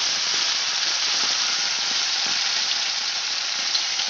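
Cut potatoes fry in hot oil until browned, giving a loud, dense, steady sizzling hiss that stays even and close throughout with no talking.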